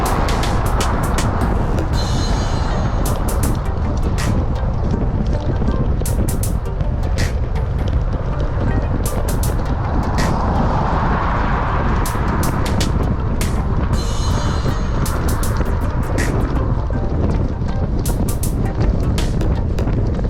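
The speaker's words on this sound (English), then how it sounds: "That wind is just blowing." Wind blowing hard across a road during winter cycling, a loud, steady roaring buffet close by throughout, with gusts rising and falling.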